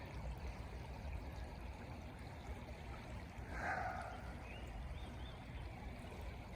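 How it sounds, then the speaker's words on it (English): Fast-moving stream water rushes over slippery slate rocks in an Ohio woodland, a faint, continuous watery hiss with a brief swell midway and no voices. "the water's moving so quick"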